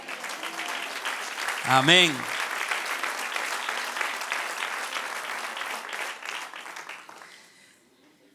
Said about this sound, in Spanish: Dele un aplauso al que reina.